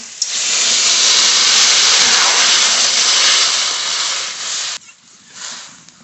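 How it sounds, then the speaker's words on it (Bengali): Water poured into a hot pan of frying ridge gourd, potato and egg curry bursts into a loud, steady sizzling hiss that fades and cuts off near the end, with no talking. "আলু আর ডিমে একসঙ্গে কষিয়ে নিয়েছি এবার জল দিয়ে দেবো"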